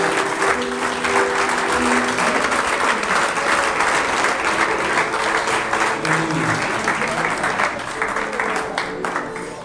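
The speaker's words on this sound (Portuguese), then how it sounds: "Vamos aplaudir Jesus" Sustained applause from a church congregation after pastors are ordained, loud and dense throughout, with faint voices and tones mixed into the clapping.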